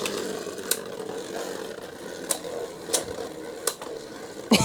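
Hasbro Beyblade tops, including Glory Regnar R7, whir steadily in a stadium, punctuated by sharp scraping clicks and clacks that recur every second or so.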